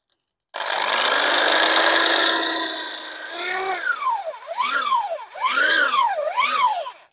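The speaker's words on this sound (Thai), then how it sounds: "ลองเจาะอันสักอันดูก่อนนะครับ" A power drill bores into a wooden chair leg, first a long steady whine, then pulsing bursts of rising and falling pitch as the trigger is squeezed and released, loud and close.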